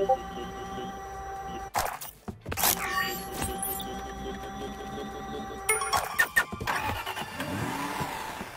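Extraction vehicle engine in the video game Deceive Inc. starts up and rumbles, with a burst of mechanical noise early on, a steady hum through the middle and another flurry of clatter and revving near the end.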